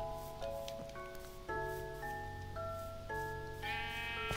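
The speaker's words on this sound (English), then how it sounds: "it's a gray sheep." A gray sheep bleats in a video game, a few wavering tonal calls layered over steady game music and ambience, each bleat brief and fairly close.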